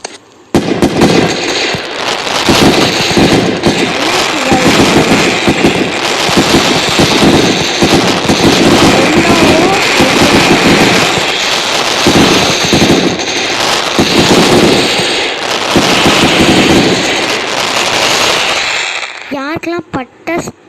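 A long string of firecrackers going off in rapid, continuous bursts, loud and close, crackling for many seconds before stopping abruptly.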